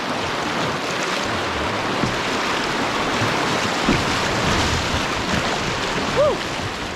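A canoe paddling through rapids and waves in the Canadian wilderness, with steady loud rushing whitewater and wind buffeting close by, and a brief distant voice near the end.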